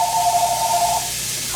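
A telephone rings with an incoming call in a home kitchen, a steady electronic tone repeating for about a second before cutting off, moderately loud with no talk.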